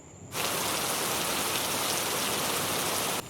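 Steady rain falls at night on a hotel balcony, a dense, even hiss that starts abruptly after a quiet moment and continues unbroken at close range, with no voices.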